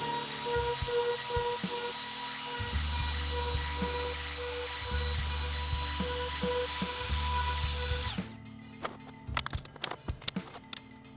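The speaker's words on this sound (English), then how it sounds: "Here I was using a chamfering bit on my palm router to create a tiny chamfer on the holes" A palm router fitted with a chamfering bit cuts small chamfers into wooden pegboard holes, a loud steady whine broken by short pauses as it moves hole to hole, then switching off into a few scattered knocks and handling sounds.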